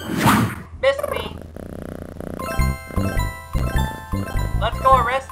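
A cartoon cat meows and purrs in the Carmen Sandiego PC game, short close vocal sounds mixed with game jingles and chimes.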